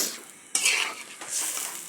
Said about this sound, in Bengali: এটা একটু কষা কষা হইতে থাকুক